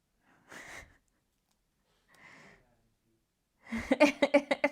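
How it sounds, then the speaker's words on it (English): Two soft, brief sneezes or snorts, then a burst of rapid wheezy snuffling pulses, close and fairly quiet. "Oh no, they're both sneezing now."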